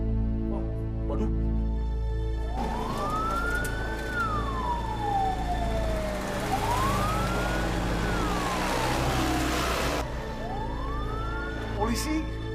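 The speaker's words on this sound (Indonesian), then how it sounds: "gua yakin itu mobil polisi" A police car siren wails in long rising and falling sweeps, fairly close and loud, over a low engine rumble, with a voice speaking briefly.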